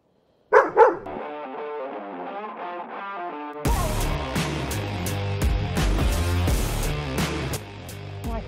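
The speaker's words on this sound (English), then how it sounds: "Let these dogs pass." A dog passing hikers on a mountain path up St Sunday Crag gives a couple of short, loud barks close by, followed by music playing steadily.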